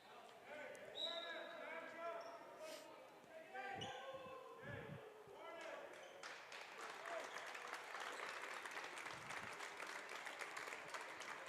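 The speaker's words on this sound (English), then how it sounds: "Jaden Hansen going to get a nice hand from the Bellaire crowd after a good game" Crowd applause swells and holds steady in a high school gym after a basketball game, with a ball bouncing early on and an announcer talking over the clapping throughout.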